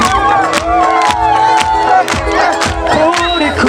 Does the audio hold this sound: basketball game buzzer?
no